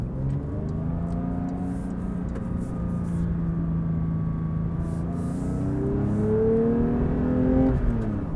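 A Porsche 992 GT3 Touring sports car engine with manual gearbox hums steadily at moderate revs while driving, with the pitch holding then rising slightly near the end; no talking.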